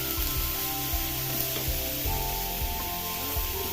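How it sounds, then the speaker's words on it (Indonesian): Shallots, garlic and sambal sizzle steadily in a small amount of hot oil, a close, continuous frying hiss with occasional stirring clicks. "kita tumis bawang merah, bawang putih, dan sedikit sambal tadi dengan minyak yang sedikit"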